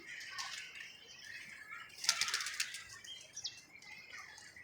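A pigeon flaps its wings in a brief, close flurry of fluttering beats, with faint chirps and soft background noise around it.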